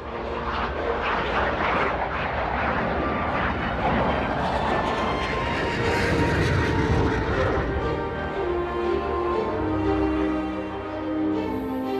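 A combat drone flies in formation with a Rafale fighter and a Falcon 7X business jet, producing a continuous, loud jet roar that stays steady and then thins slightly toward the end.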